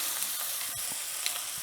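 A NY strip steak sears in a hot cast iron skillet right after being flipped, giving a steady, close sizzle and crackle with a few small pops and no talking.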